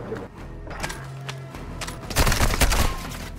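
Gunfire rattles in a shooter video game, a dense burst of overlapping shots and thuds that grows louder toward the end.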